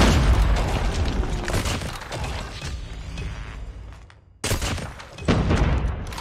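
Warning gunshots in Call of Duty Mobile, dense loud booming fire that thins briefly, drops nearly to silence, then resumes with another burst of shots.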